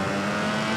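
A racing motorcycle engine in the VR46 video game screams at full throttle out of a corner, a steady, high-pitched sustained whine that holds loud throughout with no speech.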